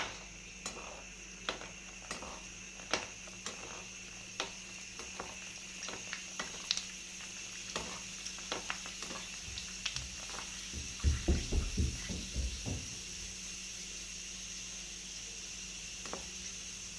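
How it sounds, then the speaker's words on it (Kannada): A batch of puris deep frying in hot oil, with a soft steady bubbling hiss, scattered clicks and pops, and a louder flurry of bubbling partway through as the dough puffs. "ಇನ್ನೊಂದು ಬ್ಯಾಚ್ ಕೂಡ ಹಾಕ್ಕೊಂಡು ನಾನು ಫ್ರೈ ಮಾಡ್ಕೊತೀನಿ."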